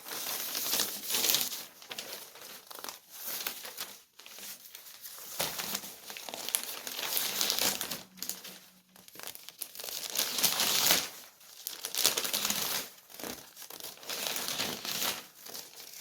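Newspaper pages are handled and crumpled for a craft project, giving a near-continuous close crinkling and rustling that swells and dips with brief lulls throughout.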